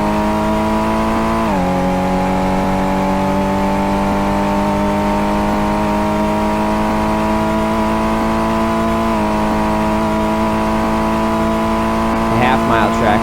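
Engine of a car in the Car Mechanic Simulator game screaming at wide open throttle, a steady high-pitched roar holding strong with two brief gear-change dips in pitch, loud and continuous.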